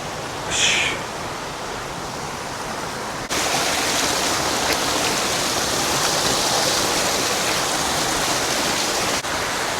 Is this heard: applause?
no